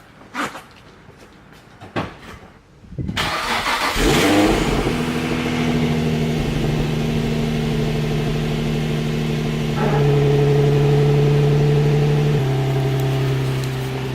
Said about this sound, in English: This is a cold start up on a 350Z.